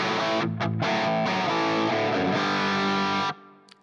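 An electric guitar plays through a tube amplifier with a thick, distorted tone in a few chords and sustained notes. It rings loud and close for over three seconds, then stops abruptly, with no speech.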